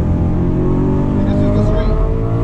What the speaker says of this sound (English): Downshift, rev match.